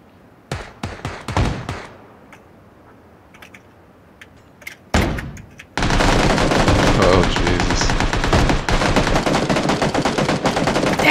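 Gunfire in the video game PUBG comes as bursts of sharp shots early on, then gives way to a dense, continuous automatic volley that stays loud and close to the end.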